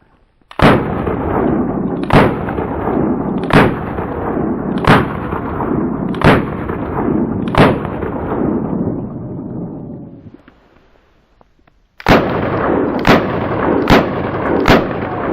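Charter Arms Pit Bull .380 ACP revolver firing Blazer rounds outdoors: six loud, sharp gunshots at an even pace with ringing echo between, a short pause, then three more rapid shots, no talking.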